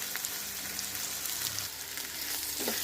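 Grated coconut, curry leaves and green chilli sizzle steadily in a hot pan for Kerala-style chicken varattiyathu, with a constant loud frying hiss and faint stirring scrapes, with no speech.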